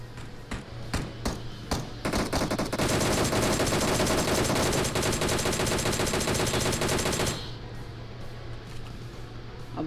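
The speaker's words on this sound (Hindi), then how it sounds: "सामने से एक बंदे की फायरिंग की आवाज़ आ जाएगी" Gunfire in the PUBG Mobile game, a few scattered single shots followed by a dense sustained burst of rapid automatic fire lasting several seconds, then quieter ambient game sound.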